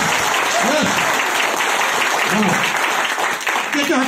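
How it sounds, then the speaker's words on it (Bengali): Audience members at the Digha boot camp clap loudly and repeatedly, giving dense, continuous applause with a few voices calling out over it. "মানে জোরে অনেকবার হাততালি দেবেন"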